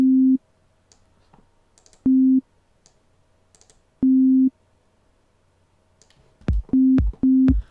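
Ableton Live Operator synthesizer emitting short steady low tones, about five beeps at irregular spacing with faint clicks between, the last few faster with percussive thumps, while the sound is being shaped toward a hi-hat.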